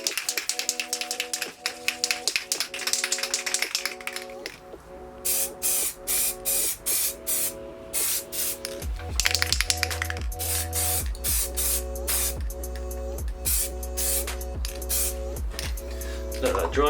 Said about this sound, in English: we're just going to go in with a couple of coats of this Ford Sunburst Red